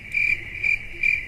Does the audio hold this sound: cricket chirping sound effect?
yes